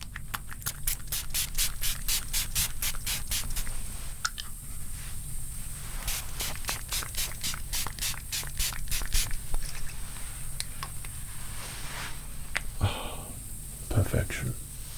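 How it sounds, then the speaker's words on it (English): Perfume sprayed from a bottle in a perfume-shop role-play, heard as repeated quick, close hissing spritzes in rapid bursts over a low steady background, with a few softer sprays later. "So I'm just going to spray you with a little bit of this."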